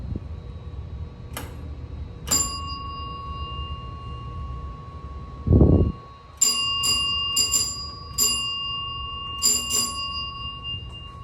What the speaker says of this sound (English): See if the bell rings if you push the button.